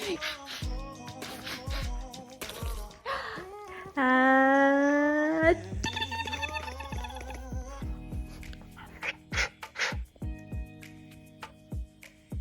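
A puppy whimpers and yips in high, wavering whines, including one long drawn-out cry, with clattering household sounds around it.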